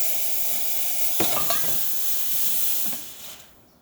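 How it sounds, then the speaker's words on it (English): A Kanen Anza espresso machine's steam wand vents steam in a loud, continuous hiss. A few sharp clicks and clatters cut through partway, and the hiss fades out near the end. "Now we're going to turn that off and let this rest of the steam out."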